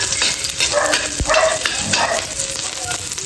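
Onions frying in a pan ahead of garlic, a close, busy sizzle with stirring scrapes and a brief knock, while a person talks over it and a dog barks faintly in the background.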